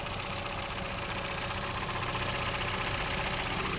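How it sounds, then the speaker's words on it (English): A 2007 Honda Civic's engine idles nearby with a steady, even mid-range hum and a faint continuous hiss, holding constant without talk. "Here's the motor."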